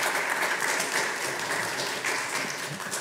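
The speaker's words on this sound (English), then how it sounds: "Wow, applause." Church congregation applauding a pastor welcomed back to the pulpit: a dense, steady wash of many hands clapping close by, holding level for the whole stretch and easing only slightly near the end.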